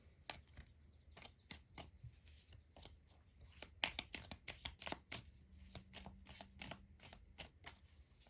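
A Druid oracle deck is handled and shuffled, making soft, close card slaps and flicks in an uneven rhythm, quiet overall with a few sharper snaps and no talking.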